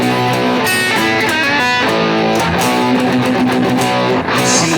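An electric guitar plays through a 1970s distortion pedal with the distortion cranked up, giving a loud, thick, saturated sound with chords ringing and blurring together.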